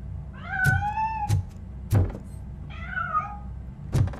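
A cat in the RoboCop: Rogue City video game gives two drawn-out, wavering meows, with several dull knocks and thuds around them.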